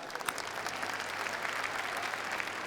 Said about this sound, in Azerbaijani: Alqışlayaq, alqışlayaq.